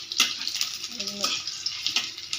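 Cumin, bay leaf and dried chillies frying in hot oil as a tempering for dal, giving a steady crackling sizzle with a few sharper pops, close and fairly quiet, with a faint clink partway through.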